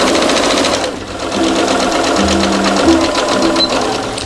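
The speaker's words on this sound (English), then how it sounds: "I've started off by joining the princess seam, put them together at the notches, and I am just going straight on with a 1 centimeter seam allowance." A sewing machine stitches a straight 1 cm princess seam on a dress, running as a steady, loud, close mechanical whir with a rapid even rhythm.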